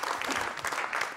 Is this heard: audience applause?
yes